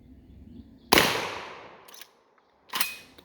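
GForce GFY 1 12 gauge bolt action shotgun fired at a range, one sharp loud blast with a decaying echo, followed by a second shot about two seconds later, no talking.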